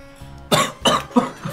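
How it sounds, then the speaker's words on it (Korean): A man with a cold coughs while eating spicy Korean jjamppong: three sharp, close coughs in quick succession, each a loud burst, with a softer throat sound trailing after. "나 감기 걸려서 기침하는 거야 지금"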